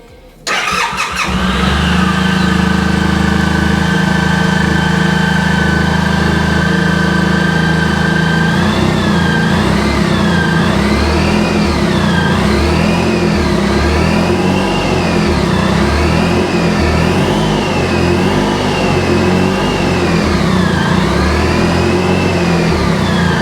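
A Suzuki Burgman 650 scooter engine cranks and catches, settles into a loud steady idle, then revs up and down repeatedly in rising and falling waves.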